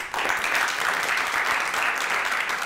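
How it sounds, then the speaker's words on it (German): Studio audience at a German comedy game show claps steadily and loudly throughout, a dense continuous applause with no speech over it. "Klatschen."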